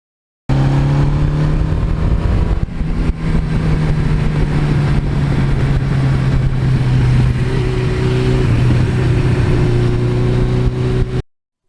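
Suzuki GS1100E motorcycle with an 86 exhaust, riding along back roads: a steady, deep engine rumble holds loud and close throughout, with a slight shift in pitch partway through and no talking.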